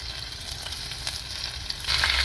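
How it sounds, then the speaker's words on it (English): Sliced pork belly frying in a pan in a camper van on a cold day: a steady, close hiss of sizzling fat that swells slightly louder toward the end, with no talking. "now I'm just dropping in the last of my pork belly that I have all sliced up"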